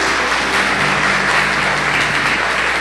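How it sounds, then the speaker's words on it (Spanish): Steady, dense applause from a church congregation at a worship service, a continuous wash of clapping that holds at an even, loud level throughout with no voices. "Fuerte ese aplauso para Él"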